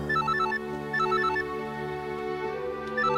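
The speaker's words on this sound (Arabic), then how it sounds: "ما بتردش على التليفون ليه؟" A telephone rings in a dramatic film scene, playing a repeating melodic ringtone in short bright bursts with brief gaps between them. It plays fairly softly over a low, steady background hum, with no one talking.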